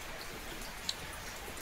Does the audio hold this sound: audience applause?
no